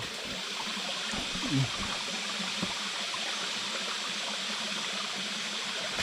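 Water trickles steadily from a cut forest vine into a glass, a faint continuous wash of dribbling liquid with little else audible.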